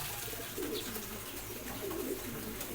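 Soft cooing of doves or pigeons, two low calls a moment apart over a steady outdoor hum.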